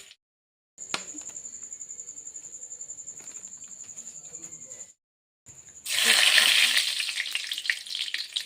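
Dried red chillies hit hot oil for a broiler chicken curry, bursting into a loud, bright sizzle after a quieter stretch of faint kitchen noise and a steady high whine.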